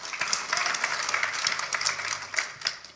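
A church congregation claps during a sermon, a run of sharp, fairly close hand claps in an uneven rhythm over a dense room background.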